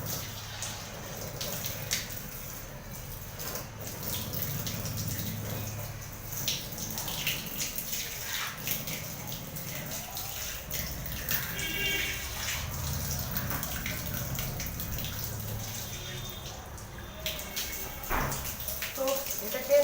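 Water splashes and runs continuously while a heavy cotton table cover is washed. The sloshing is close and fairly quiet, with occasional clunks and drips.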